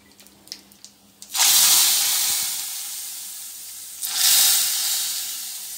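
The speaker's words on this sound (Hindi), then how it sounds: "और इसमें डालेंगे तड़का" Hot oil crackles and sizzles loudly as tempering is poured into a pot of dal, a broad steady hiss that swells again midway after a few light clinks.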